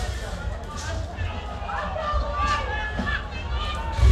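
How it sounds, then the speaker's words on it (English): Rugby league grand final crowd growing louder, a dense rumble of spectators with scattered shouts and cheers, heard under a commentator's steady talk with a swell near the end. "Crowd's now getting vocal."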